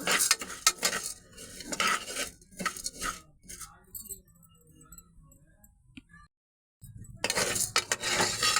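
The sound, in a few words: toor dal being dry-roasted and stirred in a pan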